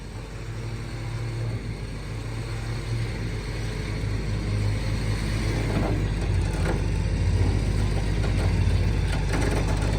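A vehicle motor running under load, a steady low rumble and drone that holds for the whole stretch with slight rises in level, close and continuous.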